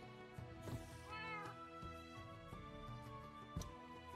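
A house cat meows several times, fairly faint, with clear tonal cries repeating across a quiet background, no speech.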